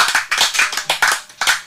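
Applause at a music performance: a short burst of close hand clapping, loud and fairly sparse, with distinct claps in an uneven rhythm and no voices over it.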